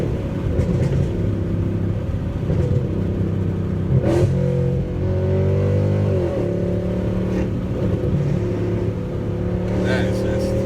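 Mercedes C63 AMG engine revving near full throttle, a steady loud rumble that rises and falls through gear changes with sharp exhaust pops and crackles on lift-off, heard from inside the car.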